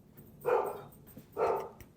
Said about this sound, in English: My dog's now barking.